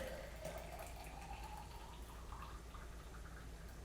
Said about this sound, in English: I'm going to pour the hot water in here.